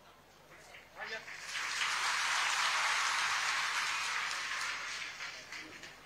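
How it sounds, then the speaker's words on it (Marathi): A crowd applauds at a public function in Hadgaon, Maharashtra, a dense wash of clapping swelling and holding steady, then easing slightly near the end. "आपण टाळ्या वाजवायच्या आहेत."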